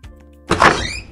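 A door opening in a Roblox video game, heard as a single soft thunk followed by a brief swelling whoosh, fairly loud and alone with no talk.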